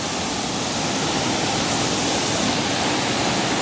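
Water flowing steadily inside a rock quarry, a loud, continuous broadband rush with no other sounds.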